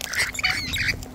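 Several birds squawk loudly up close in a quick, overlapping burst of harsh calls.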